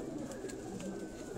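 Pigeons coo softly and steadily in a low murmur, a continuous gentle bird sound with no talking.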